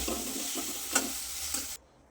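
A pan of mava sizzles steadily over a medium flame while a spoon scrapes and stirs a few times, then the sound cuts off abruptly near the end.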